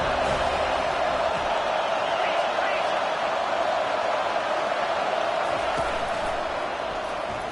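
Constant roar of a large stadium crowd at a college football game, a loud, unbroken wash of noise filling the whole stretch with no letup.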